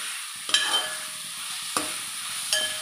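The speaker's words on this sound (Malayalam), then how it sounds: "നന്നായി ഇളക്കാം. ഈ ഉള്ളി വാടി കിട്ടാനായിട്ട് ഉപ്പിൻ്റെ പൊടി നമ്മൾ ചേർക്കുകയാണ്." Onions fried with powdered salt in a pan for a beef and koorka roast, stirred with a few sharp scrapes over a soft, steady sizzle, close and without talk.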